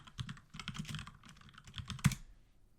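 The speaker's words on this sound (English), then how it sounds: "Now I'm just going to type in recyclarr sync." Rapid keystrokes on a computer keyboard entering a terminal command, a close, steady flurry of clicks ending in one firm tap like the enter key, with no talk.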